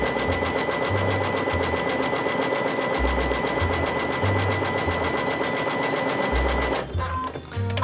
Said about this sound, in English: I am going to move this to the next position and zigzag in place